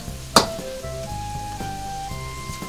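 Soy sauce and calamansi sizzle in a hot pan of pansit as it is stirred, a sharp clatter at the start, then a steady frying hiss with faint tonal scrapes throughout.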